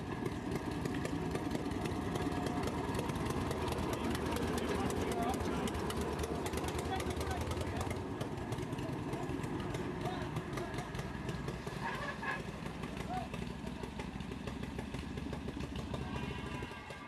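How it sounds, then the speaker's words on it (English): Wickham trolley rail vehicle on the Eden Valley Railway in Cumbria, a low-slung, unsprung car whose engine chugs and rattles steadily as it heads off down the line, with voices heard over it. "here is the Eden Valley Railway's Wickham trolley, making funny noises as it heads off down the line"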